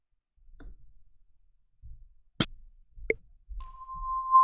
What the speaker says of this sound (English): I'm just hitting different keys on the keyboard